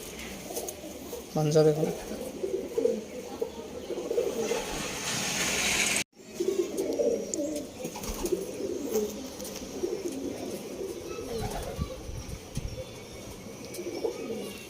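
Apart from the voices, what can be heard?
pigeons cooing in loft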